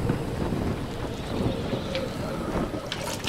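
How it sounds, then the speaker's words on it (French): Meltem, the strong north wind of the Cyclades, buffeting the microphone at a harbour with a constant loud rumble and gusts, with boat sounds underneath and no clear speech. "le vent du nord"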